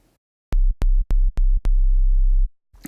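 Synthesized 808 bass notes built in Logic Pro X, pitched down a few octaves: five deep, booming hits in quick succession, the last one held longer, loud and close.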